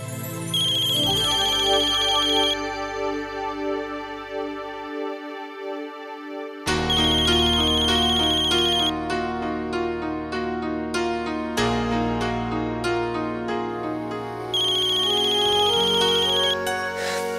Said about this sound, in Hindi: अक्षरा, आप फोन क्यों नहीं उठा रही थी?